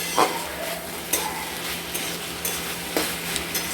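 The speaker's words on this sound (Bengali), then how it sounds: "এটা দিয়ে আমরা আঁচটা একদম, গ্যাসের আঁচটা একদম বাড়িয়ে দেবো। দিয়ে এটাকে নাড়াচাড়া করে নামিয়ে নেব।" Spinach with lentil dumplings is stirred in mustard oil over a high gas flame: a steady close sizzle broken by several sharp scrapes and knocks of the spatula against the pan, no voices.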